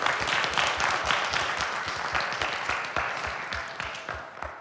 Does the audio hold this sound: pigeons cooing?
no